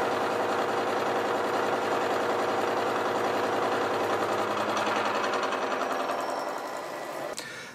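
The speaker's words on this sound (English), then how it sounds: "So last roughing cut, we're taking 2 millimetres off the fourth side." A milling machine takes a 2 mm roughing cut across bar stock clamped in a vise, producing a loud, steady grinding drone with rhythmic cutter chatter that fades slightly at the end.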